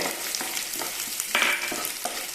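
Hot oil sizzles loudly as chopped ginger and garlic fry with cumin in a pan for mushroom masala, a close crackling hiss with a few stirring scrapes and a brief high squeak.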